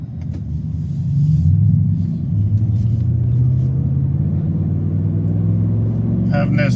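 A Ford 7.3L gas pickup truck engine, towing a camper and car hauler, rumbles steadily and shifts down through gears, its pitch dropping in steps, with a voice talking over it.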